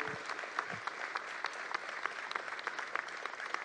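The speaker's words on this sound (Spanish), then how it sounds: "Quiero pedir un fuerte aplauso para todos ellos" Crowd applause for local business owners and producers at a political visit to Florencio Varela companies, dense and steady with scattered sharper claps, moderately distant, continuing without a break.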